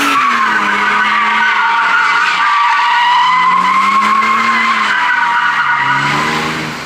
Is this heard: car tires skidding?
yes